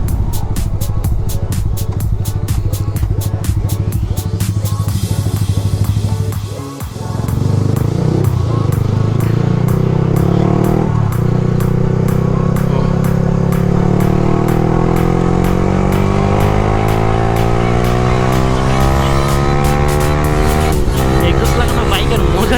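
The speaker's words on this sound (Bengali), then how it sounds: "এক্সস্ট লাগানো বাইকের মজাই অন্যরকম।" A Yamaha R15 V3 motorcycle fitted with a modified exhaust roars loudly and close while riding, its revs climbing and falling in long sweeps with a brief dip partway through.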